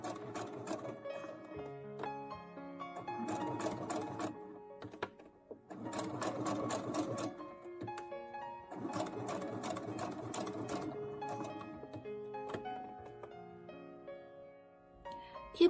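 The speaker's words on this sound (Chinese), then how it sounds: "慢慢的，非常耐心的，沿着这个图案的边缘把它缝一圈。" A Brother sewing machine with an open-toe presser foot stitches slowly around the edge of an appliqué on a baby bib, running in short, close, rhythmic bursts separated by brief pauses.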